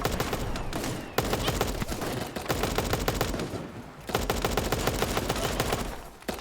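Rapid, sustained gunfire from bots in Super Animal Royale, with loud machine-gun bursts in quick rhythmic runs and brief pauses between volleys.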